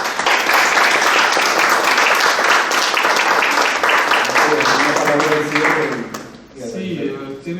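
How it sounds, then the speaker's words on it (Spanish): A lecture audience breaks into loud, dense applause that holds steady for several seconds, then fades as a speaker's voice comes in over the dying claps. "Así que le damos un aplauso."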